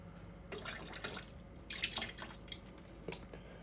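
Liquid soap pours into a Twin Spin XPB36-388S washing machine in short gurgling splashes, quiet and close, stopping and starting over a few seconds.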